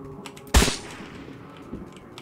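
One sharp, loud gunshot cracks in the Trans-Siberian Railway Simulator game and echoes away, followed a moment later by a fainter, more distant shot.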